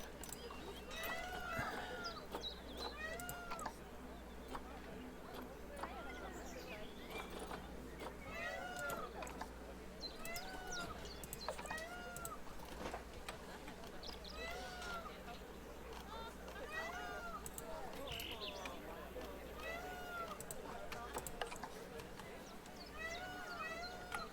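Cats in the Planet Zoo video game meow again and again in overlapping calls throughout, under a steady low hum and a person talking.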